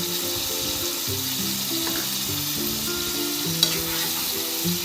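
Salted chicken pieces being stirred in a hot frying pan, with a steady close sizzle and irregular scraping, clattering stirring strokes on top throughout, and no talking.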